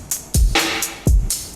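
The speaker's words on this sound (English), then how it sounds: "And I have the low end of the kick as well, and it sounds like this." Low-end kick drum sample for a beat: two deep, booming hits about 0.7 seconds apart, each a thumping low punch, heard alone alongside lighter bright ticks in between.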